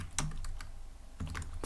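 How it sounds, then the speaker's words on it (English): Several quick keystrokes on a computer keyboard, a short burst of clicks, a pause, then another cluster, close and crisp. "but first I'm gonna type here"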